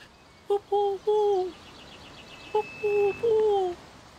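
A rare bird sings two short phrases of clear, whistled, sliding notes outdoors, separated by a pause and heard up close with no talking.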